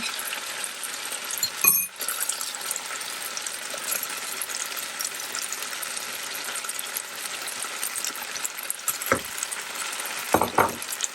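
Onions frying with broccoli and chicken in a pan, Chinese takeout style, a steady close sizzle with a few scraping stirs and light clinks, no talk.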